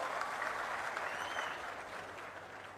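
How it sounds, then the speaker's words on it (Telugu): Steady applause at a Swarnandhra–Swachhandhra government programme in Narasannapeta, a dense crowd clapping continuously and fairly loud, then tapering slightly toward the end. "గట్టిగా చప్పట్లు కొట్టి అందరూ అభినందించాలి"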